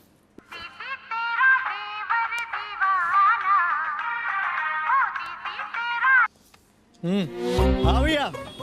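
A mobile phone plays a melodic ringtone for several seconds, clear and steady, then stops; a voice speaks right after.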